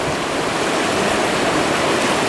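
Loud, steady rush of Bear Creek on the John Muir Trail in the Sierra Nevada, a continuous churning roar of fast-flowing water close by with no voices.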